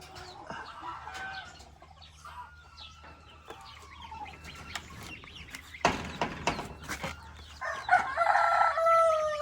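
Chickens and chicks cluck and chirp close by on a farm, and a rooster crows loudly toward the end amid scattered bird calls.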